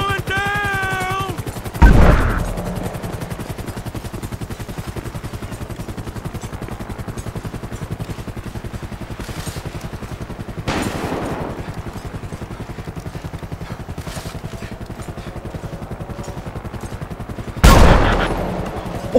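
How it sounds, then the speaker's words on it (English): Gunfire in a GTA 5 police shootout: three sharp, loud shot bursts stand out at spaced intervals over a steady low engine-like rumble, with a brief voice at the very start. "Shots fired at officers."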